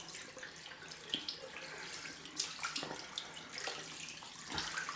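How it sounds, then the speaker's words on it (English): Cold water runs steadily from a tap into a sink for a rinse after a straight razor shave, a close, continuous splashing stream with small spatters and no talking. "Cold rinse time."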